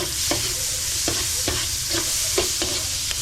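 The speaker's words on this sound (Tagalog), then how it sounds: "Nagisa na natin yung bawang. Igigisa na natin ang sibuyas." Onion and garlic sauté in hot oil in a pan as the base for a lobster dish, a continuous loud sizzle broken by regular scraping strokes of a stirring spatula, with no talking.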